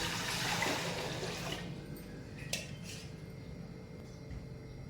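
Water pours in a rushing stream into a large pot, loud at first, then tapering off into quieter splashing and settling.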